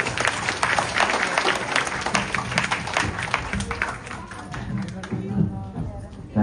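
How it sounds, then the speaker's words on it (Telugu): A school audience of students and parents at a tuition center evening event bursts into loud, sustained clapping that tapers slightly, with a few voices mixed into the crowd noise. "సో ఒకసారి గట్టిగా క్లాప్స్ కొట్టండి."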